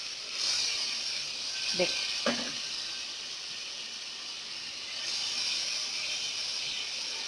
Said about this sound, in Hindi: मेरा मसाला बहुत अच्छे से भुन रहा है।